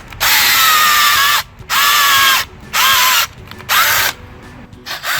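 A 3/8 garden auger spiral drill bit on a cordless drill digs into garden soil in four loud, close bursts of whining motor, each about a second long and separated by short pauses.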